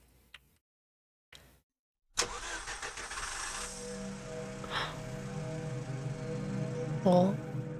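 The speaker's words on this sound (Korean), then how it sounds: "어디선가 자동차 소리가 나는데?" A car engine starts up in a horror video game, turning over and then settling into a steady mid-pitched idle that runs continuously after a brief near-silent gap.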